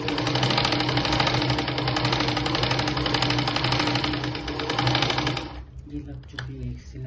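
A sewing machine whirs continuously and fairly loudly while stitching a belt on a blouse, running for about five and a half seconds before stopping into quieter handling noise.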